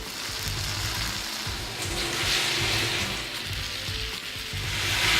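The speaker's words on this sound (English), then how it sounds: "And our onions are caramelizing very nicely." Onions sizzle and fry as they caramelize in a pan, a steady close crackling hiss with soft bubbling underneath and no talking.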